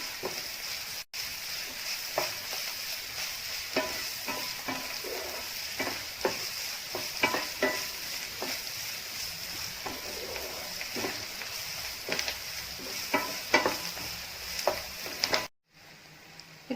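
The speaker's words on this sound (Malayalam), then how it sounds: "ഇതിലേക്ക് സ്പ്രിംഗ് ഓണിയനും കൂടി ചേർത്ത് നമുക്ക് വഴറ്റി കൊടുക്കാം." Garlic chicken pieces with spring onion sautéing in a pan, a steady sizzle broken by repeated scraping stir strokes throughout, with a brief dropout near the end and no talking.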